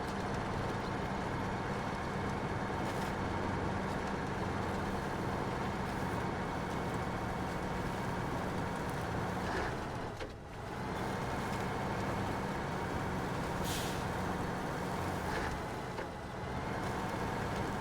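A truck engine in the video game SnowRunner drones steadily at a constant loud level, a continuous low motor rumble with brief dips, no voices.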